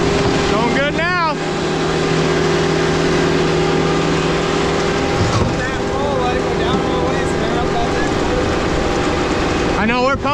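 A pump engine drones steadily while pumping at a lakefront home, a loud, even hum that runs the whole time, with a few brief chirping sounds near the start and end.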